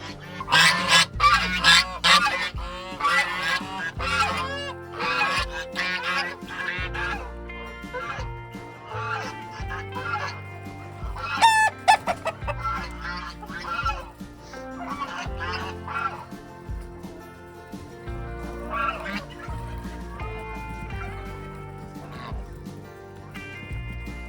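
Farm poultry being moved into breeding pens: dense, overlapping clucks and honking calls, close by and busy throughout, with no talk.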